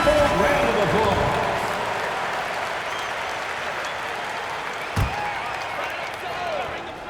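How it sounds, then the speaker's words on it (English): Basketball arena crowd noise from the NBA 2K video game during a Cavaliers vs Spurs game: steady applause and cheering fill the clip, thinning slightly over time, with one dull thump partway through. "send a round of applause"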